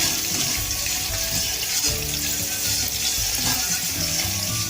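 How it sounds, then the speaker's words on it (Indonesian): Salak seed kolak is stirred in a pot as it heats toward a boil, giving a steady bubbling, sizzling wash with light sloshing and scraping close by, and no voices. "Kita aduk terus sampai mendidih."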